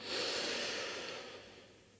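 A single slow breath drawn in and let out during a calm yoga flow, soft and close, a steady airy hiss that swells early and gradually fades, with no voices over it.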